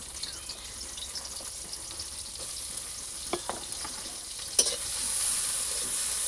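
Onions sizzle in hot oil, a continuous close crackling hiss broken by a few light clicks from the pan, swelling slightly louder toward the end, with no voices.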